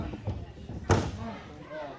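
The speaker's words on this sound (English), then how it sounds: "the HWF Champion just got slammed by that ladder" A wrestler is slammed with a ladder during a ladder match, one sharp loud impact crashing out over crowd noise and a commentator's voice.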